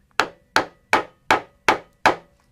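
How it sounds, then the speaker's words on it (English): Six sharp, evenly spaced hammer blows drive a 4-prong lathe drive center into a block of wood, each strike a bright woody crack with a quick decay, close and loud with no talk. "we're going to hammer in our 4-prong drive center that comes with virtually every"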